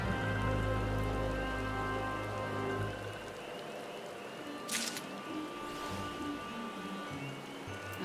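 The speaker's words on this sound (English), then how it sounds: "Oh my god, it's raining." Rain falling on a surface in a video game, a steady soft patter under a low droning hum with faint clicks.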